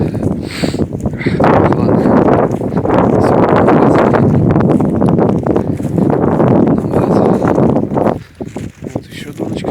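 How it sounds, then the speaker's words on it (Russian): Strong wind buffets the microphone on a flooded spring riverbank while fishing for burbot in May, a loud continuous roar that dips near the end. "Погода такая ветреная."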